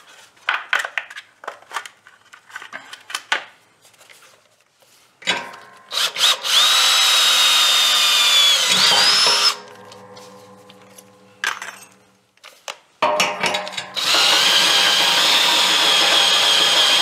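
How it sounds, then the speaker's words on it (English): A power drill bores a pilot hole while a snow plow is mounted on a Scag Tiger Cub mower, coming as several loud sustained whirring bursts separated by pauses, with clinking tool sounds in between and no talking. "I think I'll put a pilot hole through there."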